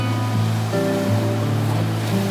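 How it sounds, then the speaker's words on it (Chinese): Sea waves wash steadily against the shore of Fushan Bay at the Olympic Sailing Center in Qingdao, a continuous loud surf roar with a low droning hum beneath it. "在这里我们可以听到久违的海浪声"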